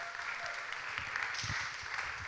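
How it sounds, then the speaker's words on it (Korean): A church congregation applauds to welcome a speaker, a short burst of steady clapping from a crowd heard at moderate distance. "박수로 맞이해 주시면 감사하겠습니다."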